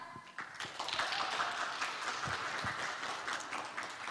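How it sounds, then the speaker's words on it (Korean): Applause at the opening of a university education concert, a fairly faint patter of clapping that builds slightly after a quiet start and continues steadily. "그럼 지금부터 제5회 코리아텍 교육 콘서트에 참여해 주신 여러분의 힘찬 박수와 함께 시작해 보도록 하겠습니다."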